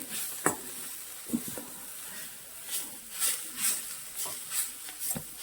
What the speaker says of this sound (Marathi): चमच्याच्या साह्याने हलवून घ्यायची आहे